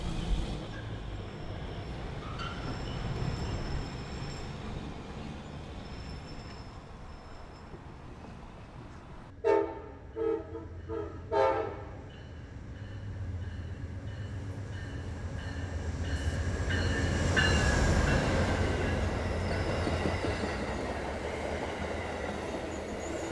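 A train rumbles past steadily, with a burst of clattering wheels midway and high metallic squealing, swelling louder toward the end.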